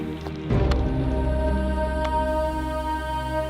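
Steady rain in a tropical rainforest setting, a dense continuous wash of patter with a few sharper drips, heard alone at moderate level.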